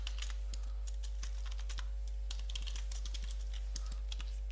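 Keys on a computer keyboard tapped in a quick, irregular run of light clicks while typing code in Matlab, close and fairly quiet over a steady low electrical hum.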